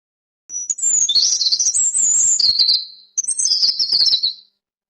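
A cartoon bird in a short animation chirps loudly and close up, two long bursts of high, rapid twittering separated by a short gap, with nothing else around it.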